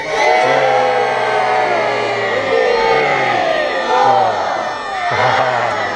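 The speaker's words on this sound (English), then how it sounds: "Give yourselves a cheer, you did good." An audience at a safari park show cheers and whoops loudly together, a dense crowd roar that swells and dips over several seconds.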